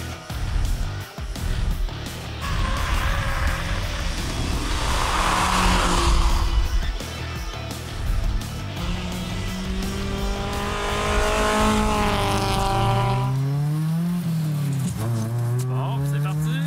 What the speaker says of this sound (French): Mazda MX-5 Coupe.